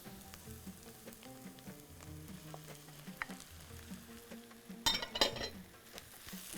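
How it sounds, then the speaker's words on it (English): Chicken frying in a pan for a Bahraini home-cooked dish gives a steady close sizzle, broken by a louder burst of crackling spatter near the end, with no talking. "Now I'm going to add the chicken."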